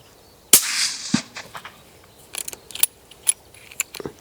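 A single sharp rifle shot rings out outdoors during a roe deer hunt over winter barley fields, followed by scattered faint clicks and rustling.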